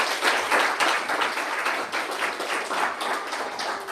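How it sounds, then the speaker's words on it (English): Steady applause from an audience at a startup pitch event on food and tech, dense continuous clapping held at an even level throughout, with no voices standing out. "big round of applause for Brüssli"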